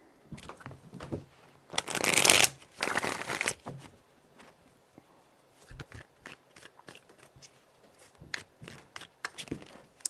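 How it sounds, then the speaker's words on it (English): Playing cards riffled and bridged in three bursts, the middle one loudest, followed by scattered soft taps and card handling nearby. "Three shuffles."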